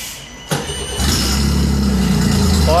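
An outboard boat engine out of the water cranks briefly off a Uniden battery jump start kit, then catches and settles into a loud, steady idle.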